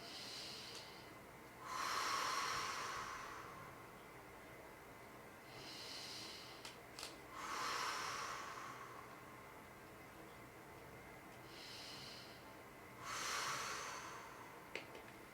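Slow, deep breathing during a yoga stretch, three long hissing exhalations spaced several seconds apart, close and fairly quiet with soft air noise between.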